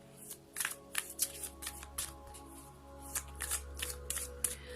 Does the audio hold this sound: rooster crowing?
no